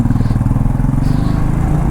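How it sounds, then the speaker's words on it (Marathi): A new motorcycle on a road trip to Ekvira temple near Lonavala rumbles steadily with a loud, close, pulsing engine throb throughout. "राकेश पाटील यांनी न्यू बाईक घेतलं आहे त्याबद्दल आजची राईड आहे"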